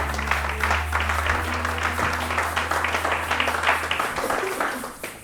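A church congregation applauding in worship, steady dense clapping from many hands filling the room, with a low sustained tone underneath and a few voices, fading slightly at the end.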